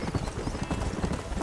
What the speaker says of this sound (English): I'm riding my horse